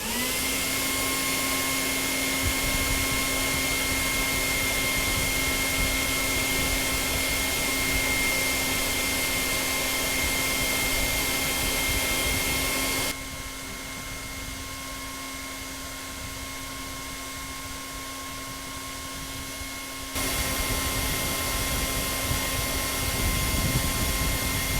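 A hairdryer blows with a steady, loud whirring roar and tonal whine, dropping to a lower, softer setting midway for several seconds before returning to full power.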